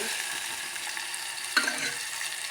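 A small chopped tomato fries in tempering oil for dal, a steady hissing sizzle with one brief clink of a utensil midway.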